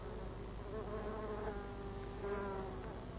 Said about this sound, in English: A much smaller hole in the fig tree has become the home of a colony of Mayan stingless bees.